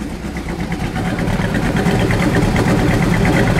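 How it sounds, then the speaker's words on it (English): A 1968 Plymouth GTX 426 Hemi with a four-speed idles steadily just after starting, a loud close low rumble with a lumpy, uneven pulse and no talk over it. "Let me listen to the idle."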